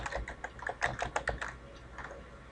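Quick bursts of keystrokes on a computer keyboard, close and fairly quiet, tapping in an uneven rhythm for a couple of seconds with no talking.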